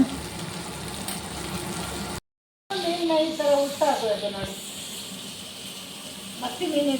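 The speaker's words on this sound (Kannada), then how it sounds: "ಈ ಮತ್ತಿ ಮೀನು ನೋಡಿ ಎರಡು ಕಡೆನೂ ಚೆನ್ನಾಗಿ ಫ್ರೈ ಆಗಬೇಕು" Mathi sardines coated in rava frying in a pan, a steady close sizzle and hiss running throughout with a short break, while people talk over it.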